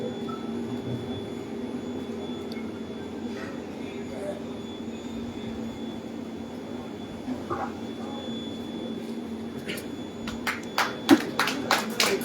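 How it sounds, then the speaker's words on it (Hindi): At a closing ceremony at Chakradharpur railway station, a burst of crowd clapping starts near the end, rising over a steady hum and a quiet, murmuring background. "जोरदार तालियां बजनी चाहिए।"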